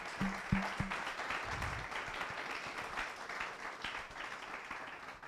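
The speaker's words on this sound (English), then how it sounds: "Would you join me in giving them a round of applause?" A modest audience claps for the evening's speakers at a talk on East Africa, a soft, even patter of many hands heard from some distance, with a brief low hum near the start.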